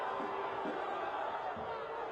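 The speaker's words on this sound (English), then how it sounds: "Crowd expresses their displeasure." Football stadium crowd at a U.S. Open Cup match between Detroit City and Minnesota United, a broad steady roar of many voices voicing displeasure, with swelling shouts rising from the mass noise throughout.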